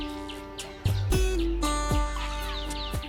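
Chickens clucking close by in an open village yard, a run of sharp clucks and short calls in quick succession, loud and clear with no talk over them.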